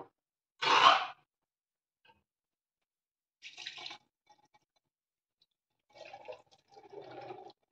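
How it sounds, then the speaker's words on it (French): Liquid from canned chickpeas draining through a colander into a salad bowl, heard as one brief loud splash of pouring followed by quieter scattered trickles and drips. "je commence par les égoutter, mais attention, vous voyez, je les égoutte pas au-dessus de l'évier, j'ai mis un saladier dessous puisqu'on va récupérer le jus"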